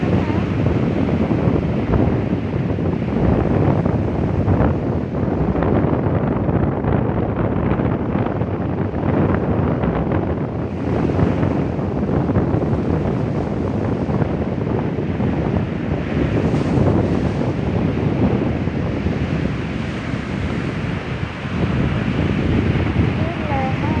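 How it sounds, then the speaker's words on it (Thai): Strong ocean waves break at a Thai beach under gusty wind buffeting the microphone, a loud continuous roar and wash with a voice speaking faintly at times. "คลื่นแรงมากเลยจ้ะ"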